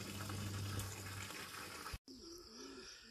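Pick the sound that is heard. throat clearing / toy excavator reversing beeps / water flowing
water flowing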